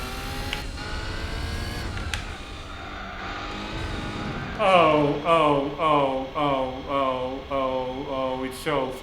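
Race car in Gran Turismo 4: a buzzy engine drone at first, then rapid, pulsing rev surges rising and dropping in quick repeated bursts as the car brakes and accelerates.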